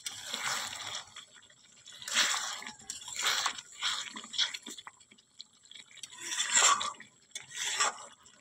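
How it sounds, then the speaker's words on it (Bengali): Mutton being stirred and sautéed in a pan over low heat for a red mutton kosha gives irregular bursts of wet, squelching scrapes separated by short quiet gaps. "আঁচ কমিয়ে কিছুক্ষণ কষিয়ে নেব"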